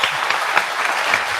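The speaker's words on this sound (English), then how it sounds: "Okay, now you can applaud all the candidates." An audience at a gubernatorial debate applauds the candidates, a steady, dense clatter of many hands clapping throughout with no pauses.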